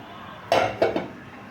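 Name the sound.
stirring and mixing meat in a cooking pot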